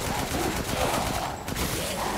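Dense, continuous bursts of gunfire crackle throughout, a steady barrage of rapid shots with no pauses, close and loud, in the video game Resident Evil Village.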